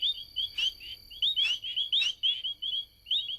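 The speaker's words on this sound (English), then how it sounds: "At times like these, humans just hear a bunch of frogs croaking," Several frogs call during mating season, bright chirping croaks repeating in quick overlapping bursts, close and clear against a quiet background.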